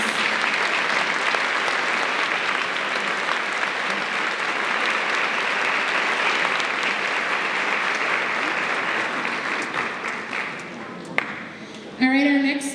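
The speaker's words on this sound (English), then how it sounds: "let's give them another round of applause." Sustained applause from an audience at a 2024 high school graduation awards event fills the room steadily and loudly, tapering near the end as a few scattered claps and a voice break through.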